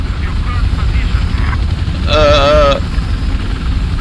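Helicopter in the Battlefield video game, a steady rotor and engine drone filling the background, with a brief rising whine partway through and excited players talking over it.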